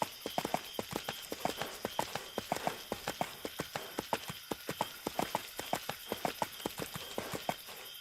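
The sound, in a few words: horse hooves galloping in video game EverQuest II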